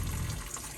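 Water streams from a sink tap in a van while vegetables are washed, a steady close splashing rush with a low gurgle underneath.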